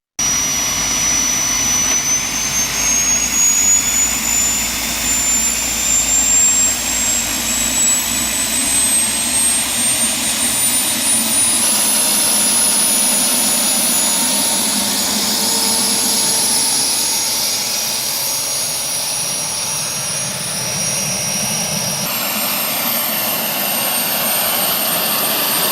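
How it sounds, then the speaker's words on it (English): A replica 1960 International Harvester HT340 turbine tractor runs on a 150-horsepower jet aircraft APU, producing a loud, steady turbine roar with a high piercing whine that climbs slightly and holds for nearly half a minute. "With 150 horsepower from a jet aircraft APU, this Brian Harris creation debuted at Canan"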